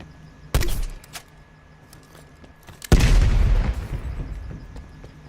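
A spawn tube in the Black Ops Cold War game Checkmate fires with a sharp boom, then lands a couple of seconds later with a heavier thudding impact that trails off in a rumbling rattle.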